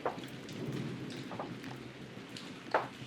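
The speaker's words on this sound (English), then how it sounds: "A storm awakens and we've battened down the hatches." Storm in a Sherlock Holmes video game, with steady rain hissing on surfaces and a low rumble of thunder throughout, plus a few brief sharper cracks or splashes, the loudest near the end.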